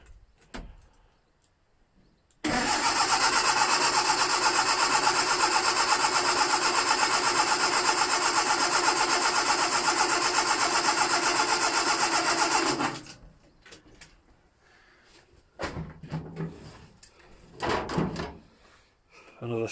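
A classic Ford Anglia engine cranks and catches, then runs loud and steady for about ten seconds before cutting out. Faint knocks and shuffling follow afterward.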